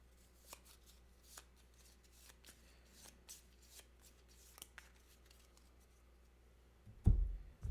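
Deck of board game cards being shuffled during a Gloomhaven: Jaws of the Lion game, faint scattered riffling and tapping up close, ending in a louder thump.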